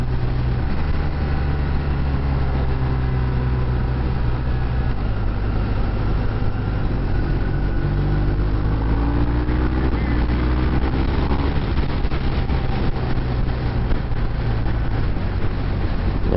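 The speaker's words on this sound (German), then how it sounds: "der Motor läuft echt richtig schön geschmeidig" A 2019 BMW R1250R motorcycle engine runs steadily on a test ride, a smooth continuous drone with shifting pitch under wind noise, heard from the rider's position and sustained throughout.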